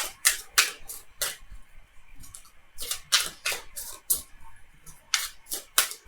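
Tarot cards are shuffled and pulled, giving quick, crisp riffling snaps in short bursts with brief pauses between, close up and sharp against a quiet background.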